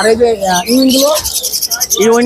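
Tame talking birds sold at the Mirpur bird market in Dhaka give loud, close calls, whistles and chattering notes that come in repeated bursts and rise and fall in pitch.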